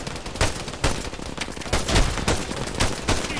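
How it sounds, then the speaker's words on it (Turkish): Gunfire in the military shooter game Arma 3 comes as repeated bursts and single cracks, about eight loud shots spread irregularly over a few seconds, with no speech. "birileri sıkıyor"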